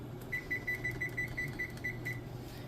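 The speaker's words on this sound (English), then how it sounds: "So I'm going to turn my timer on for 10 minutes." A kitchen timer gives a run of about ten short, high electronic beeps at a quick, fairly even pace while it is set for ten minutes, close and clear over a low steady hum.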